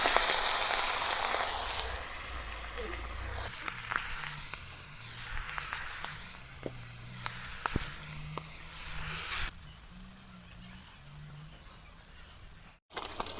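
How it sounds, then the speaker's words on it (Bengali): Fish sizzles in hot oil in a home kitchen, a close, steady frying hiss broken by sharp crackles and pops throughout. "আমাদের তেল গরম হয়ে গেছে, এখন আমরা তেলের ভিতরে মাছ দিয়ে দিব ভাজার জন্য।"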